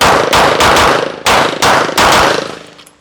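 Rifle gunfire at targets on a shooting range: several loud, sharp shots in quick bursts, each with a decaying echo, ending in a fading tail.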